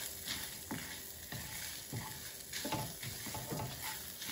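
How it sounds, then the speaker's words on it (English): Garlic sautéing in a pan, a continuous close sizzle with scattered stirring scrapes and clicks, loud and steady, no voices. "saute the garlic for about a minute and a half"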